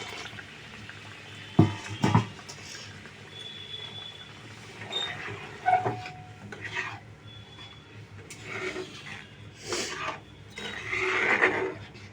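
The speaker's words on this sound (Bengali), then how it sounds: "কড়াইটা ধুয়ে জল দিয়ে দিলাম একটু" A wok is rinsed and then water is added during home cooking of Malabar spinach with red lentils. Splashes and scrapes come in close, irregular bursts with quieter gaps between them.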